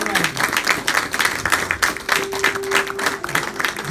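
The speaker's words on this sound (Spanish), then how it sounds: "Denle un aplauso a Él." A church congregation applauding together, with dense, rhythmic clapping that fills the room and a few voices mixed in beneath it.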